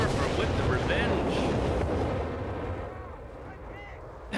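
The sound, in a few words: Nebelwerfer rocket artillery fire in the video game Company of Heroes 3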